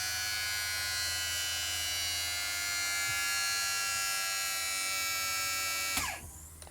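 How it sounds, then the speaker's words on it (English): Hydraulic pump in a WWII B-17 bomber runs with a steady high-pitched electric whine and buzz over a low hum, close by, then cuts off near the end with a brief falling whir. "The hydraulic pump is to your right, and you'll hear the hydraulic pump come on."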